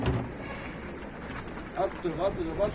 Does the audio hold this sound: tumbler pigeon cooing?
yes